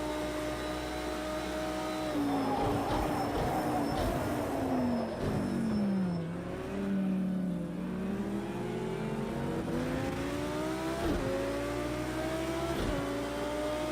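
A GT3 race car engine in Project Cars 2, overheating, revs high and loud, rising and falling through repeated gear shifts, with no voices.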